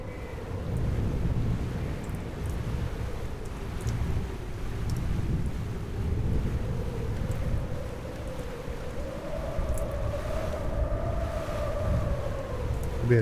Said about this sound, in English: 24, 25 knot winds now